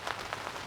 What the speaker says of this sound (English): It wasn't raining that bad, but it was raining